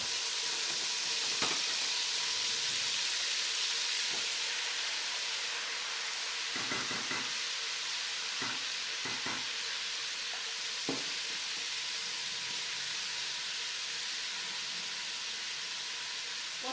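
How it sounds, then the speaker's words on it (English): Tofu frying in oil gives a steady, moderately quiet sizzle and hiss that runs throughout, broken by a few brief clicks and taps from utensils. "Let's throw this in the oil."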